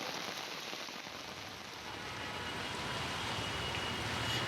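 Heavy rain falls on Kolkata in a dense, steady hiss. The downpour grows slightly fuller and louder as it continues, with no voices over it.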